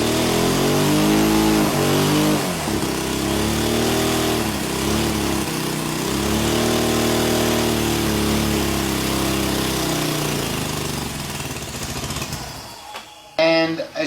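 Small turbocharged nitro engine running under boost, a loud close buzzing drone with rough revving swells and dips throughout, cutting off abruptly near the end, with a voice talking over it.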